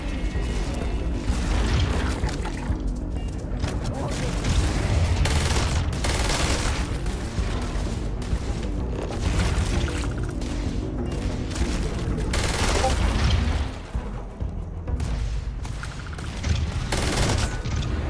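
Heavy gunfire sounds in dense, loud bursts of rapid shots and booms that run almost without a break, briefly dipping before resuming.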